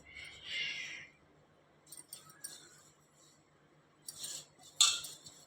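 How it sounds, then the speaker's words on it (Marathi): A spoon scrapes and clinks against a pan while spicy masala for a traditional Maharashtrian stuffed brinjal dish is moved into a serving dish, giving a few short metallic scrapes and a sharper clink near the end, with a soft voice underneath. "बघा, मी आता हा मसाला मस्त एका डिशमध्ये काढून घेते."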